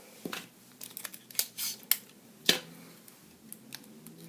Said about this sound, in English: I'm going to tape this in place.